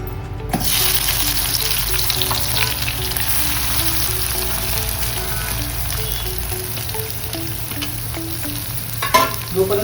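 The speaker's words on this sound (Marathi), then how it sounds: "आता आपण कढईत आपण तेलामध्ये कांदा टाकूया." Chopped onion dropped into hot oil in a kadhai, a loud steady sizzle and crackle of frying that continues throughout, with a brief clatter of utensils near the end; nobody speaks.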